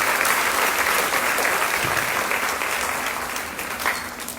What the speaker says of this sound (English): So if you could give them a big round of applause one more time.